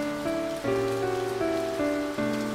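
Rain falls in the visual novel game Primal Hearts 2 as a steady, even patter that runs throughout, beneath gentle background music notes that shift in pitch.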